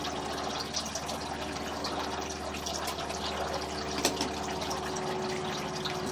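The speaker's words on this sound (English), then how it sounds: "Try and flush it a little bit more." Water flushes through a drain line that carries kitchen-sink debris, a steady rushing and gurgling flow that stays constant and close, with one brief knock partway through.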